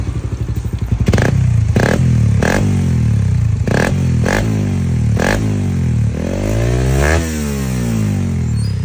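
A Suzuki Raider 150 Fi motorcycle with an Apido power pipe exhaust idles loud and close, then is revved hard several times, with sharp blips and a longer rising and falling rev, with no talk over it.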